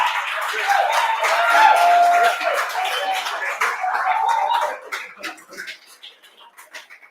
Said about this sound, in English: give him a round of applause as he heads off stage here